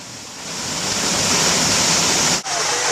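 Steady broadband rush of a waterfall at Falling Spring, water pouring over rocks in a continuous loud roar with one brief dip near the end, no voices.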